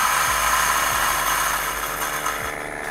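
A burr coffee grinder set to 1500 RPM at grind setting 3 grinds about 20 grams of beans, giving a steady, loud mechanical whir with a few low thumps and rattles and no talk.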